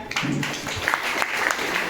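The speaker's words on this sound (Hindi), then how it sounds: "उनके लिए एक बार जोरदार तालियां हो जाएं।" A crowd at an RCM campaign gathering breaks into brief clapping, with loose individual claps audible amid a murmur of voices and a short vocal sound near the start.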